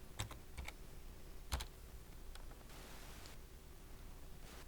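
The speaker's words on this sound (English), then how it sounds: "so I could type the word Golden" Keys tapped on a computer keyboard while entering a vendor name into purchase order software, a few quick close clicks in a short burst and then scattered taps over faint hiss in a quiet room.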